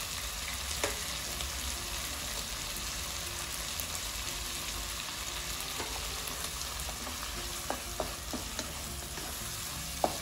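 Vegetables for a vegetable biryani sauté in a pan over a medium flame, giving a steady, close sizzle and frying crackle with occasional stirring clinks and scrapes.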